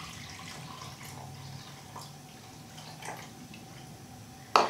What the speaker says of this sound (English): And you're going to add your warm water to your yeast.